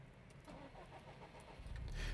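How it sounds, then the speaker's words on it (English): A car's engine being restarted during idle tuning: quiet background gives way to the starter cranking and the engine catching, rising in loudness at the end, heard up close. "we can see the interaction when we restart the car"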